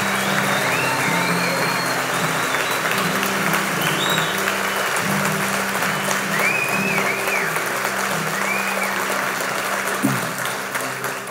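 A church audience applauds loudly after the announcement of a new worship pastor, a thick, continuous wash of clapping that stays strong throughout with faint voices mixed in.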